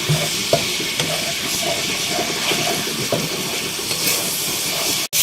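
Ginger garlic paste sizzles steadily in a hot pan for egg korma, with occasional light taps and scrapes of stirring over the constant hiss.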